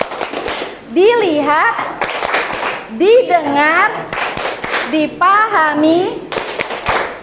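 A Tepuk Fokus ice-breaking clapping game is led during an Indonesian Islamic-education teacher performance test. Sharp, patterned claps recur through the clip, interleaved with a teacher's sung and spoken chant.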